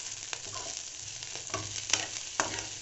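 Garlic, capsicum, carrot and corn fry on low heat with a soft, even sizzle up close, punctuated by a few light stirring taps.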